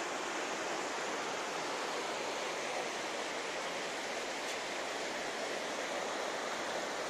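Water at the Loutraki hot springs rushes in a constant broadband hiss, a steady, even wash of flowing water heard close up with no talk over it.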